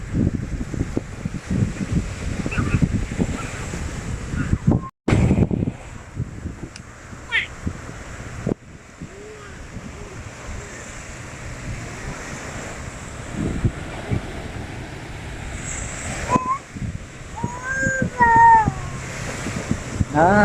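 Sea waves wash onto the shore along a coast, a steady broad rush buffeted by gusting wind against the microphone, with children and adults chatting intermittently and a couple of sharp handling bumps.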